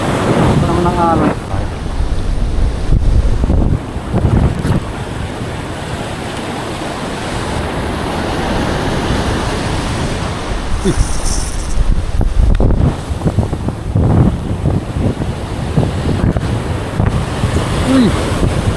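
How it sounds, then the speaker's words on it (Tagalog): Surf washing onto a shore during a solo shore-casting fishing trip, a broad continuous roar of breaking waves mixed with gusty wind buffeting the microphone, loud and close throughout. "Ito naman ang alon."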